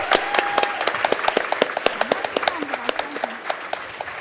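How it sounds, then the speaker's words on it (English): A small audience at a speedrunning marathon event claps steadily, a rapid string of individual hand claps, with a voice speaking over the applause. "Let's all have one more round of low applause for both of our racers"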